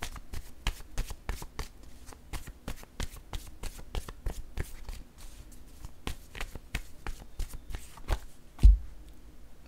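Playing cards are shuffled for a tarot-style reading, giving a steady run of quick crisp riffling snaps through the whole stretch, close and fairly quiet, ending with one louder thump and no talk.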